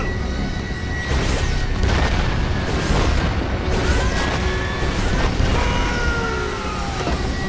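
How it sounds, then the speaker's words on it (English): Repeated heavy booms of explosions roll through a constant roar, arriving every second or so, loud and close with rumbling debris. "Those explosions are real."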